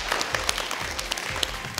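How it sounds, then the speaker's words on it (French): Children at a French school applaud their headmistress, a lively burst of clapping with sharp individual claps standing out over the crowd, fairly close and loud, no talking on top. "On peut l'applaudir."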